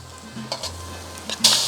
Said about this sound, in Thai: ใส่ไก่บดลงไปผัดครับ